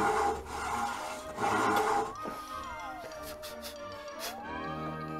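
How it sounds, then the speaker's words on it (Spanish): A hand saw cuts through wood in two rasping back-and-forth strokes, followed by quieter rubbing and soft background tones. "Me vendría bien un poco de serrucho."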